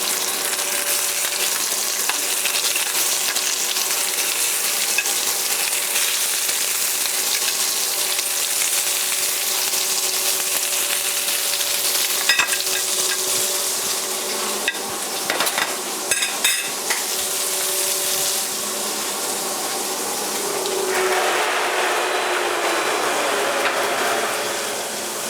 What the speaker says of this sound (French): Et dès que ça commence à fumer, voilà, on va mettre les Saint-Jacques.